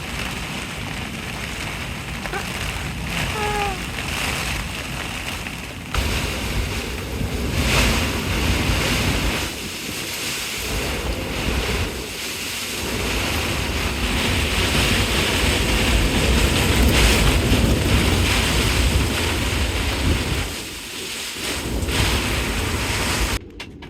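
Strong storm wind roars and waves crash continuously at sea aboard a sailboat off Florida, loud and turbulent, with rain and gusts rising and falling throughout.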